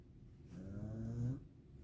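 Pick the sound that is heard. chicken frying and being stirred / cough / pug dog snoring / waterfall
pug dog snoring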